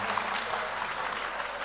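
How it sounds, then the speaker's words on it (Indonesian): An audience at an Indonesian gathering gives a round of steady, dense applause, many hands clapping at moderate volume throughout. "Kita beri tepuk tangan dulu"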